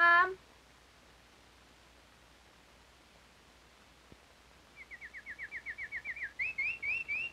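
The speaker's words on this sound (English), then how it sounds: "enjoys hearing the canary" A canary sings in a room on an old 1960s soundtrack: a brief trill, then a few seconds of hiss, then a run of rapid, evenly spaced chirps that grow louder and end in brighter repeated notes.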